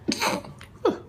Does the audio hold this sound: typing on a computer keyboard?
no